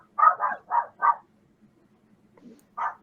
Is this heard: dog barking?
yes